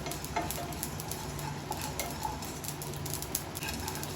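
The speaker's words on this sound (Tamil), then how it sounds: "பார்த்தீங்களா கடுகு பொரியுது இந்த அளவுக்கு நல்லா வறுத்துக்கோங்க" Mustard seeds crackle and pop while roasting in a pan for tomato pickle, giving a continuous sizzle dotted with rapid little pops and an occasional stir.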